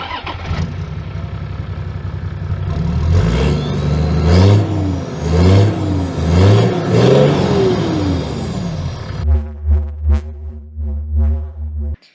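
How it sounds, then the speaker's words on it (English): A 4WD's engine turns over and revs hard several times through a deep 3-inch King Brown exhaust, rising and falling, then settles into a throaty idle with short blips. "It has the King Brown 3-inch exhaust on it as well, makes a nice sound."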